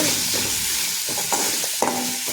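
Okra frying in oil in a pan, stirred briskly, giving a steady close sizzle with scraping spatula strokes and a few sharper knocks.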